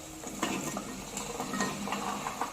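Vegetables with curd and masala being sautéed and stirred in a pan, with a steady low sizzle and repeated scraping and clinking of a spoon against the metal, close and fairly quiet.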